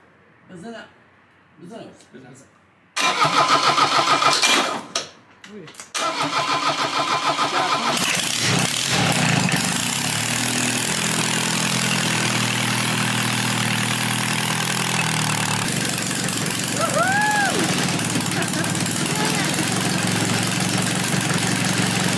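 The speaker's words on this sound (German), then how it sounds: "der Motor geht" Vehicle engine cranks, catches after a couple of attempts, then settles into a steady, loud idle with some knocking; quiet voices talk briefly before the start.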